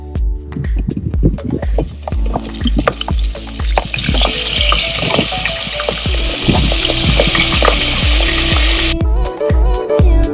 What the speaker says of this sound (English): now we're going to drop this into a deep fryer